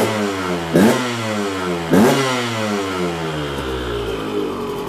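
A warming two-stroke dirt bike engine runs steadily with two sharp rev blips, sounding close and loud with no talking over it.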